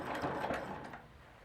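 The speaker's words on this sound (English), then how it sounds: "So I'm going to stitch my way over along the guideline" A sewing machine stitches along a quilt guideline for a moment, a soft, steady mechanical whir and hum with faint rhythmic pulses that fade slightly toward the end, with no talking.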